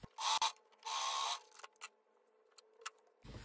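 Close but fairly quiet, a sewing machine stitches the hem of a straight skirt in two short mechanical bursts, followed by a few soft clicks and taps of the mechanism.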